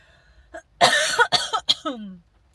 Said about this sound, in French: ça va pas être agréable de se faire tousser dans les oreilles demain.